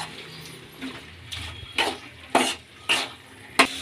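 Apple gourd masala boiling in a pan while being stirred, with a low bubbling simmer under repeated scraping strokes of the spoon, about five distinct stirs growing louder and sharper toward the end.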